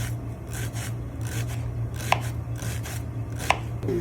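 A knife chops shallot on a cutting board in steady, close, rhythmic taps while cooking a cherry tomato and fish dish, with a low hum underneath.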